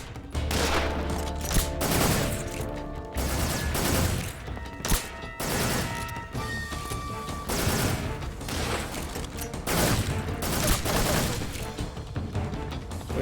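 Gunfire in Metal Gear Solid 3, dense and sustained with repeated loud bursts, crashes and thuds throughout, and faint voices underneath.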